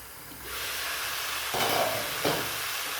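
Beans, cabbage and mung dal frying in oil for a palya, a steady hissing sizzle that swells after a moment, with two brief louder bursts as the vegetables are stirred.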